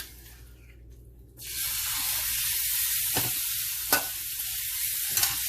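Chicken pieces sizzle loudly in a hot pan for a chicken pesto Alfredo pasta. The hiss starts abruptly after a quiet first second and then holds steady, with a few sharp scrapes and clinks of stirring.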